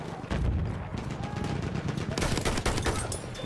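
An enemy machine gun firing in Battlefield 1, dense rapid bursts of gunfire with booming impacts, loud and continuous over the whole moment amid battle noise, with a voice briefly audible.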